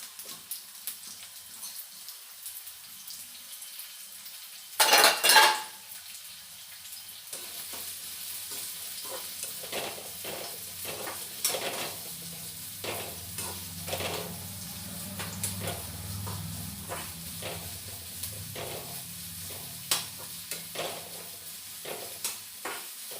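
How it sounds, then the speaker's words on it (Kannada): Food frying in a pan in a home kitchen during a busy morning, a soft steady sizzle with scattered crackles and occasional stirring scrapes, preceded by a brief loud clatter near the start. "ಚೆನ್ನಾಗಿ ಫ್ರೈ ಮಾಡ್ಕೊಂಡಿದ್ದೀನಿ"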